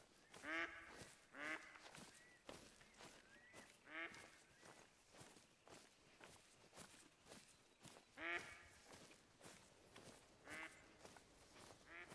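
Ducks quack in a hunting video game set in the wild, with several loud bursts of calls spread over steady outdoor ambience and no talking.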